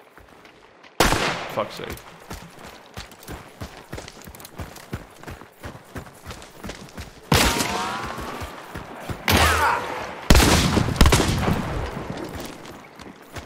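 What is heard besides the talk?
gunfire in the video game Hunt: Showdown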